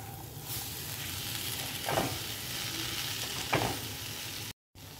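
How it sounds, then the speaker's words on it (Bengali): Carrots, peas and tomato paste are stirred in a pan over a low flame, giving a steady soft sizzle with a couple of brief scraping strokes of the spoon; no talking. "ফ্লেমটাকে লোতে রেখে আমি একটুখানি সময় নাড়িয়ে নেবো এটাকে।"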